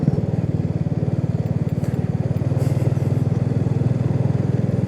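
A motorcycle rides a winding, hilly road between Mumbai and Ganpatipule, its engine a steady, close, pulsing rumble with no break in the throttle and no talk.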